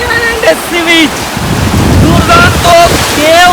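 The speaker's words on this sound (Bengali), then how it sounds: "সমুদ্রে ফাটাফাটি ঢেউ" Sea waves surge and wash onto an empty beach at Mousuni Island, a steady loud roar of surf mixed with gusting wind buffeting the microphone, with faint voices in the background.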